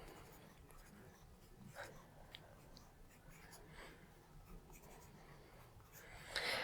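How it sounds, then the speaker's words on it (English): A pen scratching row numbers onto paper by hand during lace knitting repairs, a faint, steady close-up scribble that runs throughout with a brief louder rustle at the end. "So I'm actually going to write that down, all the numbers up to 14"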